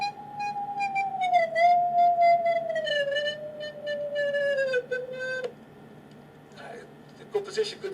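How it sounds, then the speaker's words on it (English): A sonified tone made from single electrons added to a vibrating nanotube sounds as a steady, whistle-like tone that drifts down in pitch in small steps, then breaks off, leaving a quieter background with scattered noises. "Let me hear you the sound of electrons."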